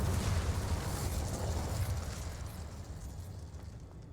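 Incendio fire spell cast in the Hogwarts Legacy video game, a loud whooshing, rumbling burst of flame with deep low-end that surges at once and then slowly fades over several seconds, with no talking.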